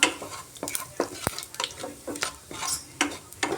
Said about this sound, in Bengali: আর দারচিনি আর এলাচি তেলের মধ্যে ফোড়ন দিয়ে দিলাম ফোড়নটা একটু ভাজা ভাজা হতে থাক